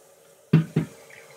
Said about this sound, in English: I'm going to put a little more water in.